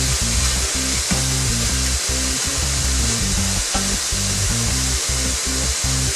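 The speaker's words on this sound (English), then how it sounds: "right now, it's been sauteing for about 2 minutes here" Ingredients for chicken noodle soup sauté in an Instant Pot with a loud, steady frying hiss over a low, pulsing appliance hum, close and constant throughout, with no talking.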